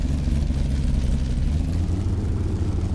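A truck's engine running and driving in a John Deere farming game, a steady low rumbling drone that holds loud and unbroken throughout with no talk.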